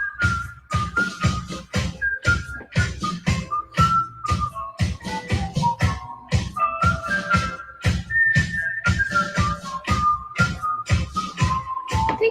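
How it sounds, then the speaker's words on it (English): A woman whistles a melody in a played song, bright sustained whistled notes gliding between pitches over a rhythmic beat of drums and bass, steady and fairly loud from start to finish. "I think she's actually doing the whistling on"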